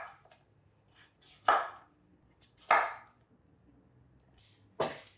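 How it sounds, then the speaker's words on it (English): A kitchen knife slices the sides off a butternut squash, three crisp cutting strokes spaced about a second and a half apart, each a short rasping chop ending on the board, close and clear. "I just take it and cut the sides off with my knife."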